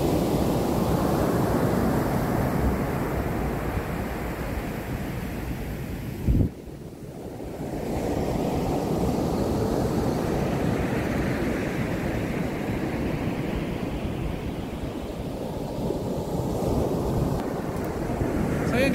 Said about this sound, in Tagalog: Abutin tayo ng alon.